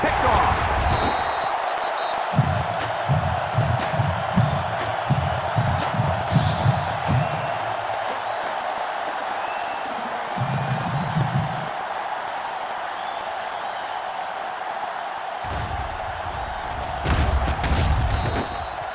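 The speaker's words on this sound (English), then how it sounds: "the defense urging the crowd to get to their feet" Stadium crowd in the NCAA Football 08 video game, a Nebraska Cornhuskers home game against Nevada, roaring and cheering in steady waves, with surges that rise and fall under continuous play-by-play commentary.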